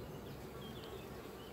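Honeybees drone steadily around an opened hive during an inspection, a dense continuous buzz close by with a few individual bees passing near, no voices.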